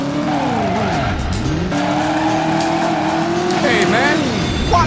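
A car in the Driver PS1 game brakes hard, with loud, sustained tire squeals that sweep up and down in pitch over a revving engine, near and continuous, with speech mixed in.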